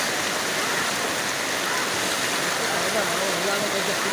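Floodwater rushes steadily along a flooded street in Sampaloc, Tanay, Rizal during rain, a dense, unbroken hiss of flowing water close by with no pauses.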